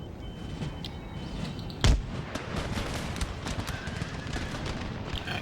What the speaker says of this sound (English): deadly accurate fire from our guards